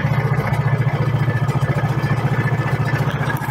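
Sumo Racing SR150 15HP racing engine with a Hemi head and two valves, running up close at a steady, throbbing idle with a rapid, even pulse and mechanical clatter.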